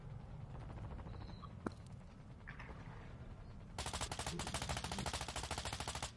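Gunfire in the video game Warzone: a few faint distant shots early on, then a rapid burst of automatic fire, loud and close, in quick regular succession.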